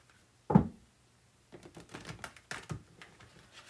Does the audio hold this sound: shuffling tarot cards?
yes